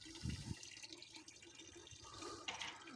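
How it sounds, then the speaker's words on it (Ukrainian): Water runs from an outdoor tap in Oberbach, Germany: a faint, continuous trickle with a few brief splashes, heard alone. "І вона отак з крана тече і зимою, і літом."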